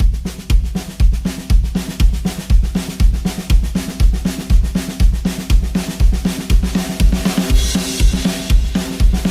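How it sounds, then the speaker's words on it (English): A rocky, punky cowpunk drum kit with a country-and-western lilt plays a steady, driving pattern of loud, regular kick and snare hits, the cymbals brightening toward the end, with no voices. "So here's the sound of the drums."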